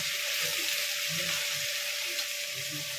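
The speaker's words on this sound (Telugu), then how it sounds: "ఇదిగోండి దొండకాయలు అయితే ఫ్రై అవుతున్నాయి." Ivy gourds (dondakaya) frying in a pan, a steady close hiss of sizzling oil with faint clinks underneath.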